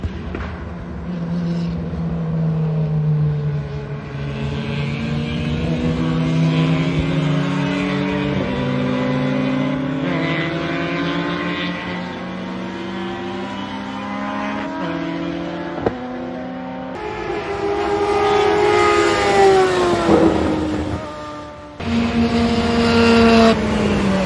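Race cars in a circuit race, engines droning and shifting pitch steadily as they accelerate and pass, loud and continuous with changing gear tones and no talking.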